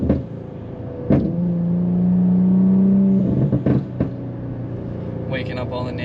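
An Infiniti Q50 on an aggressive tune revs in a short, rising burst, holds briefly, then drops off, with a few sharp clunks and a person speaking near the end.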